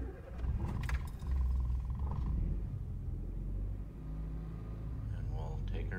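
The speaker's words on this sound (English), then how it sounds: "now we'll go for a little drive here and we'll start it up cold." A 1985 Honda City R cold-starts, then settles into a low engine rumble. It follows a brief clatter at the start and sounds fairly close and steady with a muffled interior tone.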